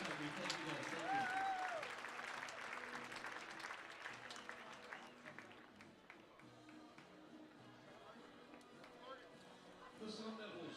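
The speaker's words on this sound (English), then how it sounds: "Let's give these great servicemen in the room a round of applause for all they have done for this country." Crowd applause for servicemen at a college baseball game in a stadium: faint, distant, sustained clapping and crowd noise, with voices mixed in.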